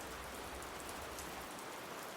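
Steady rain falls on a rooftop, a dense, even hiss of drops close by, alone without voices.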